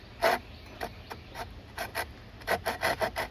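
A hand saw trimming a wood repair flush in a run of short, rasping strokes, close and fairly quiet, each pass brief with small gaps between, and no voices.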